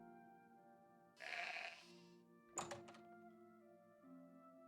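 Sheep bleating in the video game The Elder Scrolls IV: Oblivion Remastered, one clear bleat followed by a thunk-like hit, over a steady low game ambience at moderate volume.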